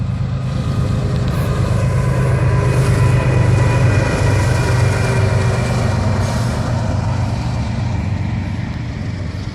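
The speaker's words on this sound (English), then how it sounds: "We got a train coming through." A train rumbles past close by, a loud, steady roar of wheels and engine that holds throughout with no pauses.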